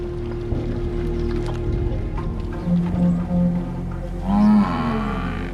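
Domestic water buffalo lowing in open grassland and marshes, a few low moans and one longer drawn-out call rising over a steady low hum, moderately close.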